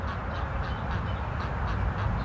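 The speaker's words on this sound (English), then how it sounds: "Mama Duck's over there still freaking out a little bit." A mother duck near her newly hatched ducklings quacks in agitated bursts, repeated rapid calls partly masked by heavy steady outdoor noise that sounds like wind.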